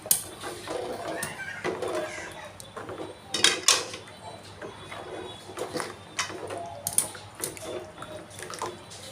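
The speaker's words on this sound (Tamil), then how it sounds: "நல்லா கிளறி விடுங்க." A spoon scrapes and clatters in a pot of fish curry (meen kulambu) with liquid sloshing, producing irregular near knocks and stirring sounds under a faint background hum.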